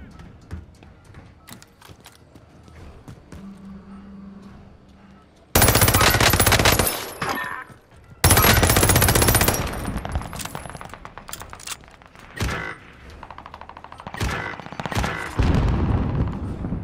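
Heavy automatic gunfire from the video game Call of Duty: Modern Warfare erupts in two loud, sustained bursts, then fades into scattered shots and rumbling battle noise.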